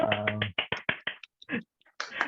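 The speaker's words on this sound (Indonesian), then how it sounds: "tepuk tangan dulu dong" A few people in a small studio clap hands in a short burst of quick, close, sharp claps, then several scattered single claps with brief silences between.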